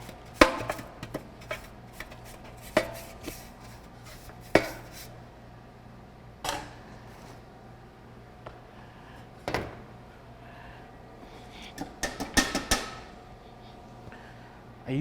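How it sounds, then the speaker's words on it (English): Fresh concrete sample being scooped from a mixer into a clean pan, with scattered sharp knocks, scrapes and thuds of a tool against metal, irregular and close, clustering into rapid strikes near the end. "Grab our pan to add our sample to."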